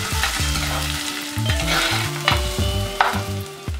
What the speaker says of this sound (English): then goes in 1 medium onion that's chopped and sauteed for a few minutes